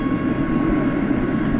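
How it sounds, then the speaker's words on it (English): An airplane takes off at night at DFW Airport, a loud, steady low roar of engines filling the clip without pause, close and unbroken, with no voices. "Ken says that's a takeoff"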